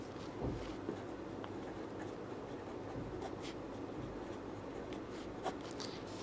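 A math solution being written out by hand produces faint, steady scratching strokes in a quiet room, with brief pauses between the marks.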